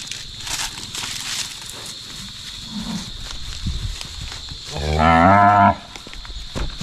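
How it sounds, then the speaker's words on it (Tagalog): Male cattle on a farm let out one loud, deep, drawn-out moo near the end, after quieter shuffling, footsteps and farmyard noise; no one speaks. "Nag-ingay yung mga lalaki nating baka."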